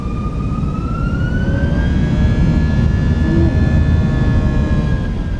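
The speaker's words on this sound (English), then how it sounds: "Chrono, should we have a listen to the engine?" The jet engines of a Fenix Airbus A320 in Microsoft Flight Simulator 2024 roar loudly and steadily during takeoff, with a rising whine layered over a dense, constant rumble and no talk.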